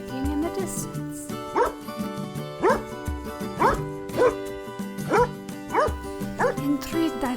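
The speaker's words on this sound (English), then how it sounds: "Suddenly I heard a dog barking in the distance." A dog in a park barks again and again, about seven sharp yelps spaced roughly every second, carried over a steady musical backing.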